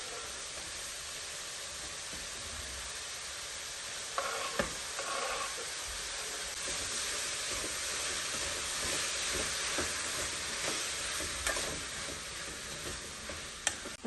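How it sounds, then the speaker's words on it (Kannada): Vegetables and chopped tomatoes fry in a pan for a desi-style pasta, giving a steady close sizzle with bursts of stirring and a few clatters of a utensil against the pan. "ತರಕಾರಿ ಫ್ರೈ ಆಗ್ತಿದೆ."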